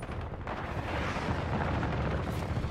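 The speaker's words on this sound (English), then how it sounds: "Friendly precision airstrike inbound." Precision airstrike explosions in Call of Duty, a dense, continuous rumble of booms and blasts that holds steady and loud throughout.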